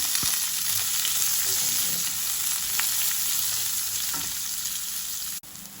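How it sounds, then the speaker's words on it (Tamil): Chopped onions fry in a hot pan with a loud, continuous close-up sizzle, punctuated by a few stirring clicks before the sound cuts off sharply near the end. "இப்போ இந்த வெட்டி வச்ச வெங்காயத்தை போடுறேன்"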